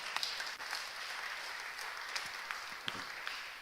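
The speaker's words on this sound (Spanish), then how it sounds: "Aplauda fuertemente al Señor esta noche" A church congregation applauding loudly during an evening service, a steady wash of many hands clapping throughout, with a few sharper claps standing out near the end.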